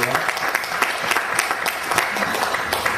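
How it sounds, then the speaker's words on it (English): A live show audience applauds for the first rock and roll dance organiser in Australia, dense and loud clapping from a crowd close by that holds steady the whole time. "Give a round of applause"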